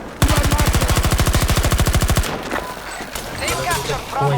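A rapid automatic burst of roughly thirty evenly spaced rounds from a gun in Battlefield 2042, loud and close, lasting about two seconds before cutting off into ambient battle noise and distant pops.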